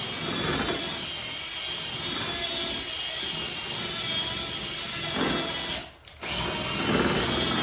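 A power drill with a mixer paddle churns unsanded tile grout in a bucket, a loud, steady motor whine with a brief dip and restart near the end.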